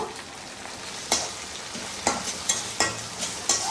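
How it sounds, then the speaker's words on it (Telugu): Tomato going into onions frying in a pan for goat leg curry, with a constant sizzle and a series of sharp spoon scrapes and stirs at irregular intervals, close and without talk. "ఉల్లిపాయలు అయితే చూసారు కదా ఇలా ఎర్రగా వేగాలన్నమాట ఇప్పుడైతే ఈ టమాటాలు కూడా వేసుకుందాం"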